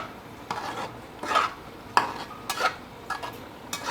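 A spoon stirring dried rice for potato pulao in a pot over high heat, giving intermittent scraping and clinking strokes about every half second, close and moderately loud, with no talking.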